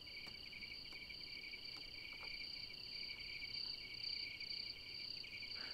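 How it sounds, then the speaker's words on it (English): Crickets chirp in the video game Stranded: Alien Dawn, a continuous, high, shrill trill that stays steady and fairly faint throughout, with no talking. "Crickets like crazy."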